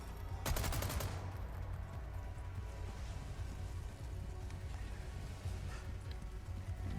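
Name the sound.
gunfire from a video game, Handcannon and Chicago Sweeper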